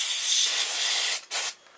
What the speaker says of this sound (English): Take electronics cleaner or motor spray, spray into the end bell,